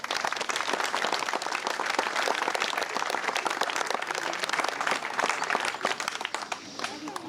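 A crowd at a drawbridge inauguration claps in sustained, dense, loud applause that tapers slightly near the end, with voices faintly mixed in.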